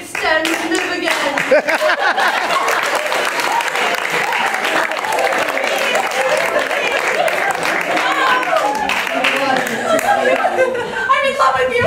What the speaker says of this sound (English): Clap to make Stanley live again